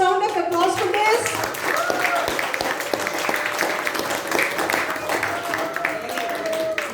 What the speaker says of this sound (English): Can we give a thunderous round of applause for this?